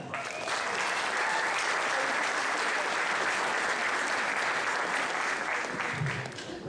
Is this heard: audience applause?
yes